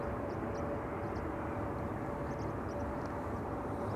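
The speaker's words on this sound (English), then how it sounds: "E2 Embraer 195 arriving from Munich and an E2 Embraer arriving from Oslo." A KLM Embraer 195 E2 airliner arriving at Schiphol from Munich on approach to runway 22, a steady broadband roar held at even loudness throughout, with no talk.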